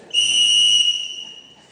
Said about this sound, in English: has to use a loud police whistle to catch my attention